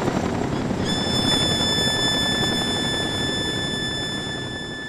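A military helicopter's rotors drone as a loud, steady, close roar, with a high whining tone joining after the first second and holding throughout.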